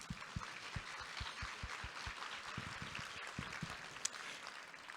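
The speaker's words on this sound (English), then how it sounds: "if we could give them a round of applause" Faint applause from a conference audience honoring the board supervisors' chairman and vice chair, a thin scattering of steady claps heard at a distance in a large hall.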